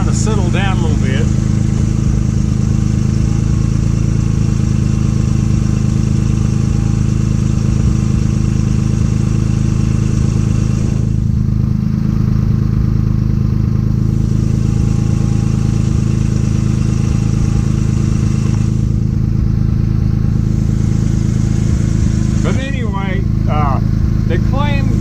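A 3-cylinder 800cc engine runs during a fuel pressure test, giving a loud, continuous, steady drone with a voice talking over it.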